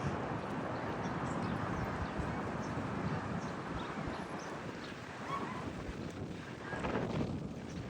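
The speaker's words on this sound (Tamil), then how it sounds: "காற்று ரொம்ப வேகமாக வீசுதுங்க நிற்க முடியல அந்த அளவுக்கு ஃபாஸ்ட்டாக வீசுது" Steady, roaring wind, strong enough that standing is hard, buffets the microphone outdoors on the way to a bus station for the whole stretch, a dense continuous rush with no pauses and no talking.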